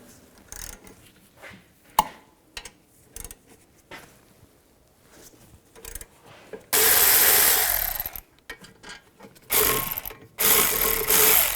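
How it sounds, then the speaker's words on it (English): A ratchet with a 15mm socket loosens the caliper bolts on a 2010-2017 Chevrolet Equinox during brake work, giving scattered clicks and knocks followed by longer, louder bursts of rapid ratcheting near the end. "Use a 15mm socket. Take these two caliper bolts, loosen those up and take those out."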